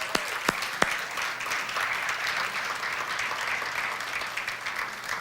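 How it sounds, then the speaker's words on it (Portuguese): A church congregation applauds at a celebration service, the steady clapping holding evenly throughout with a few sharp, louder claps standing out near the start. "uma salva de palmas para esses homens e mulheres."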